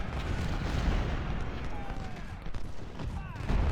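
Artillery fire in the Ultimate General: Civil War video game, a continuous rumbling barrage of distant cannon blasts rolling under a dense battlefield din, with a faint voice briefly audible.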